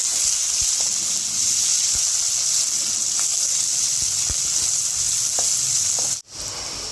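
Chopped onion sautéing with peanuts in an oil-filled pan gives a steady, loud sizzle, with scattered stirring clicks and a brief dropout near the end.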